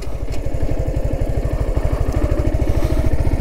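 A motorcycle engine thumps loud and close in a fast, even rhythm as the bike rides toward a river in Majuli, Assam, with no talking over it.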